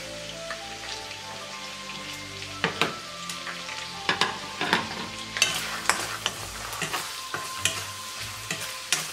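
Garlic sizzles in a wok that was just used to fry beef and shrimp, with a steady crackling hiss broken by sharp metallic scrapes and taps of a spatula, with no talking.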